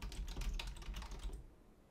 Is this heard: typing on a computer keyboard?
yes